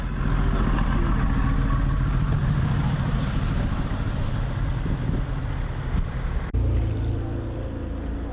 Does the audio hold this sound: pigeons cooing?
no